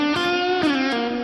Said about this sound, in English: I have another distortion pedal on here.